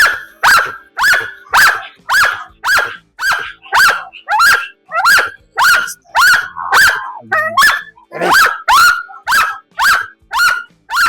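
A dog barks repeatedly and loudly at a steady, rapid pace, with a brief whiny squeak partway through.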